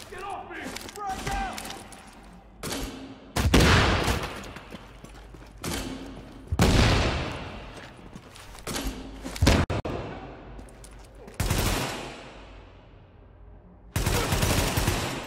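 Bursts of gunfire from a firefight in The Division, in the Queens Tunnel Camp, come as loud, dense volleys at irregular intervals, separated by quieter stretches of thuds and background game noise.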